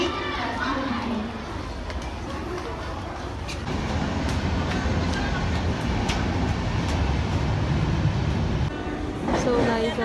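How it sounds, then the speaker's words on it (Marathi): A Kalyan-bound Hindi local train pulls in at platform 1 of Diva station with a continuous heavy rumble and clatter, and a public-address voice plays over the noise. "कल्याण जाने वाली हिंदी लोकल थोड़े ही समय में प्लेटफॉर्म क्रमांक 1 पर आ रही है"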